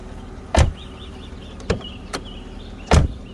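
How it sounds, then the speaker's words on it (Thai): A 1994 BMW E36 325i with manual transmission has its door shut twice with solid, heavy thuds, close by, plus a lighter click between them against a quiet background. "ปิดประตูเสียงแน่นๆปั๊บๆเลยนะครับ"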